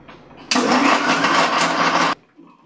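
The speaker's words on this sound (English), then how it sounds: "So I shut this and I shall grind this." An electric spice grinder whirs loudly through nutmeg and dry fruit spices, starting abruptly after a short pause, holding a harsh, steady high-pitched roar for about a second and a half, then cutting off sharply.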